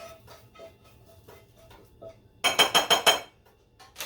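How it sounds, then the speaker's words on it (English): A utensil scrapes cooked onions out of a hot pan in a quick run of five sharp metallic strokes, preceded by faint quiet clinks and background hum. "Scrape it out of the pan."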